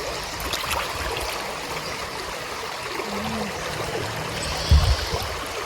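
A mountain river flows steadily with a broad, constant rush of water, close and even throughout, with a brief low thump near the end.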